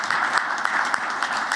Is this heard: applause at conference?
yes